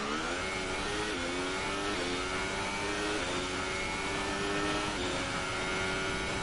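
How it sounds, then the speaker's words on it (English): An F1 car engine in a racing video game at the Abu Dhabi Grand Prix, overheating and sounding unhealthy, holds a loud, constant high-pitched drone with rough, gritty shifts in tone and no talking. "Can you hear the engine? It's absolutely just... That does not sound healthy at all."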